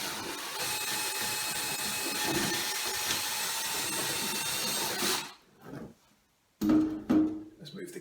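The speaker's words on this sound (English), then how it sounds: "I'm going to try it with my little cordless drill" A small cordless drill fitted with a whisk attachment mixes at slow speed, a steady whirring churn for about five seconds that then cuts out, followed by brief clatters and a short burst of voice.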